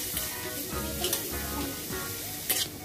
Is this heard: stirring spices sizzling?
yes